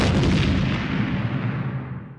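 A bra bomb going off in The Simpsons, a loud, close, rumbling blast that fills the moment at once and then slowly decays into a long fading roar, with no voices.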